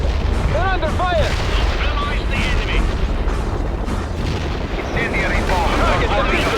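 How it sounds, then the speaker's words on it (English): Incendiary bomb explosions in the strategy game World in Conflict, dense rumbling booms and crackling fire rolling continuously, loud, with radio-style voices over parts of it. "Coordinates received. Incendiary bomb delivered."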